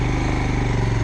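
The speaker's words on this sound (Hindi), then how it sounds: "इसे स्टार्ट किया बाइक को मैंने" A Royal Enfield Himalayan FI motorcycle engine running just after being started, giving a steady, close, throbbing single-cylinder idle with no talking.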